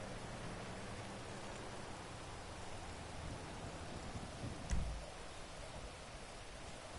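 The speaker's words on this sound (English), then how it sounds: "Oh, it's raining." Rain falling in GTA Online during a street car race, a quiet, even hiss of downpour throughout, broken once by a brief low thud, with no talking.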